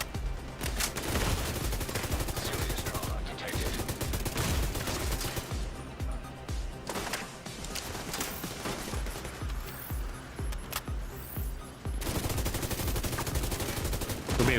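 Sustained heavy suppressing gunfire in The Division 2, dense overlapping automatic bursts from machine guns and rifles firing almost continuously for the whole stretch, loud and close, with only brief dips between volleys and little talk.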